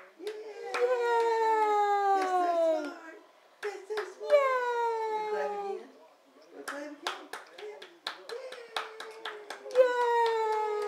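A young child claps his hands in a few short bursts of soft slaps between long, drawn-out vocal squeals and babbling, close to the microphone.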